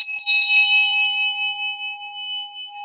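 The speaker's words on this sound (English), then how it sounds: "I think you deserve the big bell for that" A single strike of a big celebratory bell rings out clearly with a sharp attack, then a pure, sustained tone that decays slowly over a few seconds, heard alone without talk.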